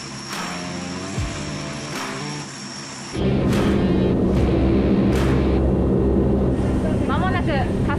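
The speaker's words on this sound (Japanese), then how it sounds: "さあ、これからエンジンスタートです。" Turboprop engines of a P-3C patrol aircraft spooling up on the ground, a steady whine that jumps to a louder, denser roar midway as another engine starts, with a narrator talking over it.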